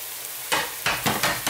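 Chopped carrots, green beans, celery and potato tipped into a hot pan, several bursts of sizzling and stirring in quick succession, close and crisp, no voices.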